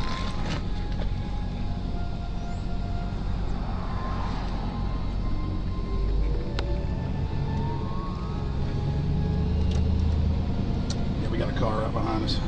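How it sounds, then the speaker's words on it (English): A car drives along a road, with a steady low engine and tyre rumble throughout while people talk over it. "Car right behind us."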